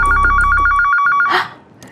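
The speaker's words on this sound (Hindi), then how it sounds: "देख बजी घंटी।" A telephone bell rings in quick, evenly spaced trills, loud and near, then stops abruptly and leaves a short, quieter tail of room sound.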